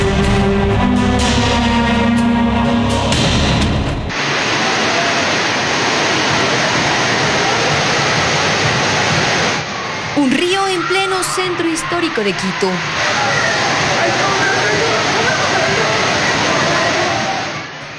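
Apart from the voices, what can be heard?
floodwater rushing through Quito streets after heavy rain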